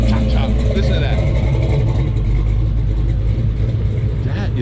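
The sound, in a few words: Chevrolet Camaro engine running with choppy idle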